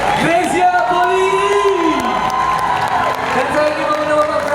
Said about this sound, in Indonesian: kita beri tepuk tangan yang paling meriah untuk our gold medalist kita, Greysia Poli.